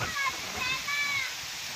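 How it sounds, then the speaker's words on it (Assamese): Heavy storm rain pours down with a steady broadband wash of water that stays loud and continuous throughout, with a few faint higher tones drifting over the rushing noise. "ধুমুহা বৰষুণ আহি আছে"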